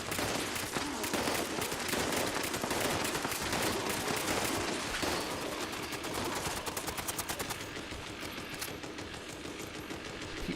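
Rapid bursts of automatic gunfire in the video game Fallout 76, dense and continuous with sharp repeated cracks, fairly quiet in the mix and tapering slightly toward the end, with no voices.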